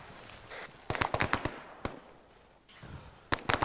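Rocket fire and explosions in ARMA 3's Vietnam setting arrive as loud clusters of crackling bursts, with sharp cracks in between and a quieter gap before another volley close by.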